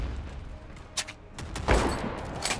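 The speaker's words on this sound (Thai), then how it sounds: "ใครยิงมาวะ" Gunfire from a free sniper video game pops in a few scattered shots, one near the start and a louder, heavier blast in the middle, with fainter reports trailing off at the end.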